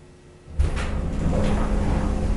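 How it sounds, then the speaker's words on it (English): An old, worn elevator of unknown brand in Brownsville, Texas starts its motor with a sudden onset, then a steady, rough droning hum and rumble that continues close and loud. "listen to this motor."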